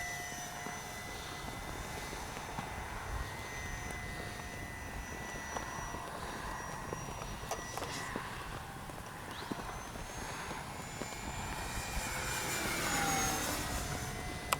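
An FMS PC-21 Pilatus RC model plane takes off with a steady, high motor whine that rises and swells in the final seconds as it climbs away, against a constant outdoor background.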